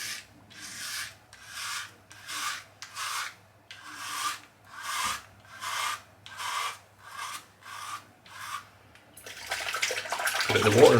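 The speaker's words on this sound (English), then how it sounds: "Dip it in the water and straight against the grain." A cartridge razor, dipped in water, shaves a head with two days of stubble against the grain, giving about ten close, evenly spaced rasping strokes, then a louder splash of rinsing water at the end.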